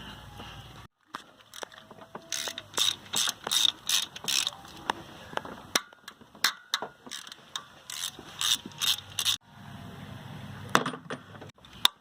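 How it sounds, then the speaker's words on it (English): Ratchet spinning off 13mm bolts from the metal upper timing cover of a 2003 Ford Focus, several runs of quick loud pawl clicks broken by brief pauses and metallic clinks, close by with no talk. "It appears we have 4 13mm bolts holding this metal upper timing cover."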